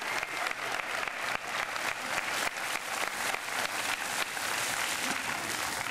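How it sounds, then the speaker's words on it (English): Applause rises from a crowd at an outdoor ribbon-cutting for a reopened park, a steady, moderately distant patter of many hands with no talk over it. "And now a nice round of applause for all those people"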